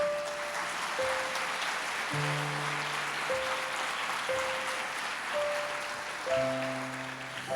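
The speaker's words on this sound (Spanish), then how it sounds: "Denle un aplauso" An audience in a church applauds with a continuous, moderately distant clatter of clapping while sustained organ or keyboard chords play underneath.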